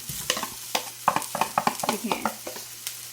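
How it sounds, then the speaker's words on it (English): Ground beef sizzles and crackles in a hot cast-iron pot for an okra stir-fry, with scraping stirs of a utensil against the metal in an irregular, close rhythm. "When this pot is getting hot, I'm going to add the ground beef here."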